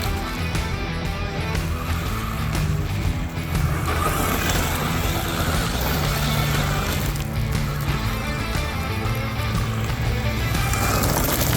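An MJX Hyper Go 14210 brushless RC car races across gravel, its motor whining steadily with crunching stones and rolling tyre noise throughout, fairly close and continuous.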